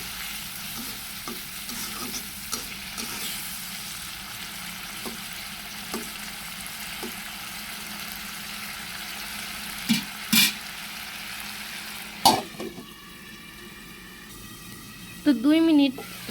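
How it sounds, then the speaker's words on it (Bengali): Prawns frying and being stirred in a simmering spice paste, a lively steady sizzle with spoon scrapes, a few louder clatters near the end and some faint voices. "মশলাটা বলক উঠে গেছে, কষানো হইতেছে, এখন দিয়ে দিতেছে চিংড়ি মাছগুলো।"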